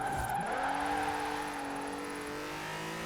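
Forza Horizon 4 car with a wheelspin drift build sliding through a corner, engine howling at high revs with tyre squeal layered on top, steady and loud throughout with no talking.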